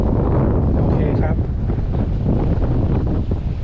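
Strong wind buffets the microphone on a seaside fishing pier at Samaesan, Chonburi, a loud, steady roar with continuous rumbling gusts throughout.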